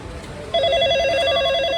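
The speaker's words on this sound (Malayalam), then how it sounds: "ഇതിൽ 3 വട്ടം പ്രസ് ചെയ്ത് കഴിഞ്ഞാൽ അവിടെ റിങ് ആവും." A telephone-style ringtone starts abruptly partway through and keeps ringing steadily, a repeating warbling tone after a button is pressed three times, heard in a shop setting.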